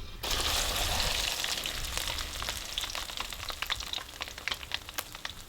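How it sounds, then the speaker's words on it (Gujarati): Gumberries (gunda) dropped into hot oil for a Gujarati vegetable dish, giving a loud, dense sizzle right away that slowly thins into scattered crackling pops and spits. "આપણે આ તેલ ગરમ થઈ ગયું છે આમાં ગુંદા નાખી દઈએ"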